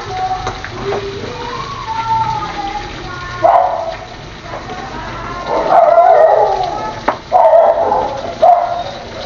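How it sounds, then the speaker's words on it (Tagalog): A dog barks in short, loud bursts near the middle and end, with quieter yips between, over a steady background hum in a home kitchen where pork ribs are being cooked. "Ay, ingay ng aso."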